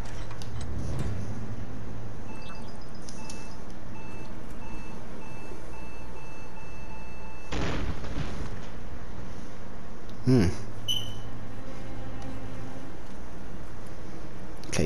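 An explosion in the video game Biomutant: a sudden broad blast bursts out amid repeated electronic alarm beeps and a steady low rumble, followed by a second, shorter burst.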